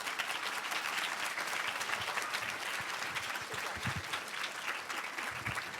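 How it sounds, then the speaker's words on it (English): An audience at a grand finals event applauds the finalists, a dense, sustained wash of clapping that stays loud and even for several seconds. "We can have another round of applause."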